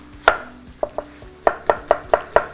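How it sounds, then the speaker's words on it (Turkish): An onion is chopped on a cutting board for a Turkish aubergine moussaka sauce. There are about eight crisp, close knife strikes in an uneven rhythm with short gaps between them, and no one talks. "Onu biraz daha küçük doğrayacağım."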